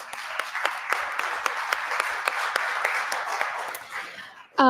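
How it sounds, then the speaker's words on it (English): Audience applause at a luncheon fills the room, a dense, steady wash of many hands with a few sharper individual claps standing out, holding level before cutting off abruptly at the end. "Can we give him a round of applause?"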